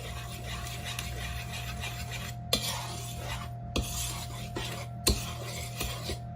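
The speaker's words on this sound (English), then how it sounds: "So now I'm stirring up flour, salt, baking soda, baking powder, white sugar, and brown sugar" Dry flour, salt, baking soda, baking powder, white and brown sugar stirred together in a bowl for a chocolate walnut cake, a steady close scraping and rustling with a few sharper clinks of the utensil against the bowl, no talking.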